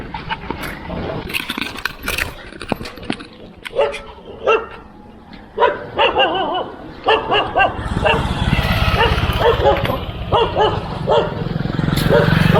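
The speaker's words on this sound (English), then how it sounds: "We got an aggressive dog." A dog barks aggressively at a passing cyclist on a desert road in the Thar region of India, with repeated sharp barks and yips over wind and road noise, fairly loud and close.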